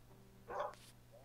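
A single short dog bark from the video game Minecraft, one quick burst that stands out clearly over a low steady game hum with no talking.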